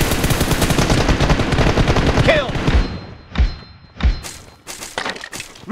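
M416 rifle gunfire in a PUBG Mobile training-ground fight, a long dense stream of rapid automatic shots that stops abruptly, followed by a few separate heavy single bangs.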